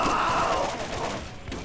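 In the Borderlands shooter game, a 50 cal weapon fires, and a burst of loud, rolling gunfire rings out with a heavy decaying tail. It tapers off over about a second and a half.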